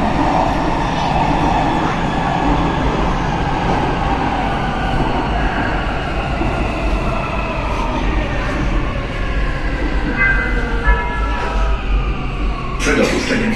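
Siemens Inspiro metro train on Warsaw Metro line M2, heard from inside the car as a loud, steady rumble and roar of running, with faint squeals and a brief sharp burst near the end; no talk present.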